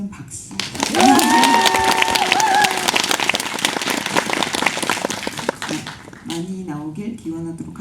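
A dense burst of audience clapping sweeps through a hall during a Korean film screening talk with the cast and director, building quickly and thinning out before a voice resumes speaking.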